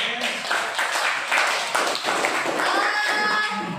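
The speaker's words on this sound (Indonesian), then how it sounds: "Ya, tepuk tangan Sadayana." Group of students clapping hands together in a Sundanese-language classroom session, a steady dense patter of many hands filling the room, with a few voices faintly mixed underneath.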